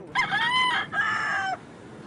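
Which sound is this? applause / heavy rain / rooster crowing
rooster crowing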